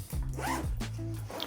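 Zipper on a backpack pocket pulled open in a few quick scraping strokes, close and clear, with short gaps between pulls and no talking.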